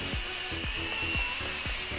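A nail drill bit smoothing the surface of a gel nail, its steady high whine running throughout, with about half a dozen short rhythmic rubbing strokes as the bit is passed across the nail.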